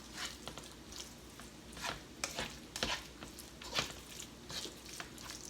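A spoon stirs cheddar cheese into a cheeseburger casserole mixture in a bowl, making soft, wet, squishy scraping sounds in irregular strokes, close and quiet.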